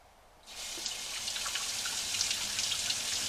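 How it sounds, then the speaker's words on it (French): Water pours from a tap into a glass jar to rinse sprouted seeds, a steady splashing hiss that begins after a short pause and keeps running at a moderate level. "je mets de l'eau dans le bocal en verre"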